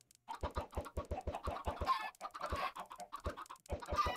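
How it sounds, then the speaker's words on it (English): Chickens cluck in the video game Minecraft, a rapid string of short repeated clucks from many birds packed close together, loud and near, with no talk over them. "There has to be like 50 chickens in here, dude."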